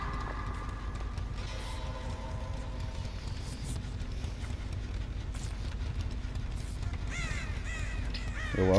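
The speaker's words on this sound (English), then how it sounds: "Don't really want to set off all the crows." Crows caw in a video game (Dead by Daylight style), with scattered caws and wing flaps over a steady game ambience and a louder flurry of cawing near the end.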